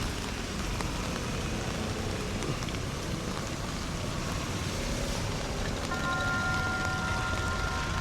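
Heavy rain pours over Jaffna town, a steady dense hiss of water on surfaces with traffic murmur beneath, continuous and fairly loud, with a faint tonal ringing near the end.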